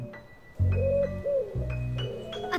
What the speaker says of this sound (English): A bird singing.